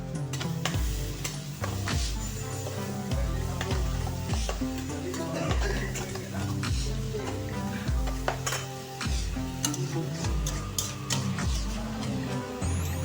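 Spice masala and shrimp being stirred as they fry in a pan, with a constant sizzle and repeated scraping and clinking of the utensil against the pan, heard under steady background music.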